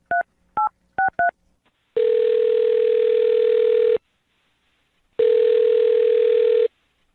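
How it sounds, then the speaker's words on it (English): Four short touch-tone beeps dial a phone number, followed by two long, steady telephone tones separated by a silence, each loud and clear with no talking. "I'm going to dial her phone number right now."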